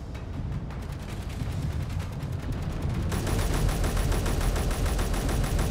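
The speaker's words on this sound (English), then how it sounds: "Yep, I'm shooting back." Gunfire in the video game The Escape From Purgatory, a dense, continuous barrage of rapid automatic fire and booms that grows louder and fuller midway, close and with no talk.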